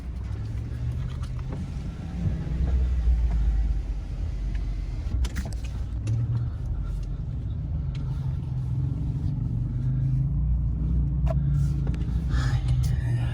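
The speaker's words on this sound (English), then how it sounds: "gotta pause, got traffic coming." Traffic on a mountain road in Southern California, heard from a Ram Power Wagon, passes as a steady low rumble of engines and tires with a few louder swells, and a voice speaks faintly underneath.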